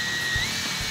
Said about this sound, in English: I've drilled a hole right through the bottom.